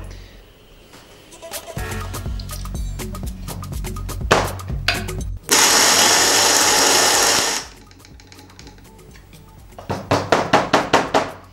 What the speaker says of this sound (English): What I'm doing here, by the way, is purging coffee, where you see me just grinding a little bit and chucking it away